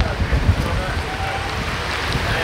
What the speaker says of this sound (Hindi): भाई यार क्या बारिश हो रही है।